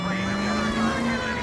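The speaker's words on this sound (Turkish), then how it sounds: "Hemen sirenimizi açalım." A police car siren wails in the video game L.A. Noire, a loud continuous tone sliding slowly over a busy layer of engine and traffic noise, with no pause throughout.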